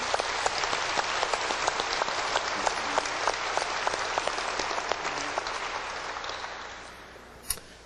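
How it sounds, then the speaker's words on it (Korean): Warm applause from a church seminar audience fills the room, steady and dense with many hands clapping, then thins out and fades toward the end. "우리 한번 마음으로부터 박수로 감사를 표현하고 싶습니다"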